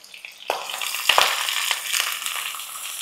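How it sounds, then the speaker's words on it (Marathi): Onion and bell pepper sautéing in a hot pan, a steady close sizzle broken by stirring scrapes and a couple of metallic taps of the spoon against the pan. "आपल्याला फक्त हे कांदा आणि भोपळी मिरची ना जराशी परतवून घ्यायची"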